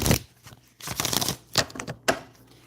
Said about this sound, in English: And then I want to shuffle these a little bit more.